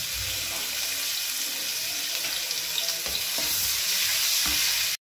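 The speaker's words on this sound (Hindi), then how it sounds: "इसको थोड़ा फ्राई कर लेते हैं, उसके बाद हम इसमें ऐड करेंगे क्रश्ड हमारा जो जिंजर।" Cumin seeds and crushed ginger frying in oil in a pan for palak paneer, a steady close sizzle with soft stirring scrapes, no voices.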